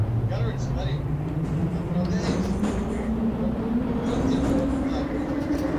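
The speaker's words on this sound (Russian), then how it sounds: "поезд поехал" Metro train in the Metrostroi simulator game pulling away from a station, its motor whine rising steadily in pitch under loud conversation between players.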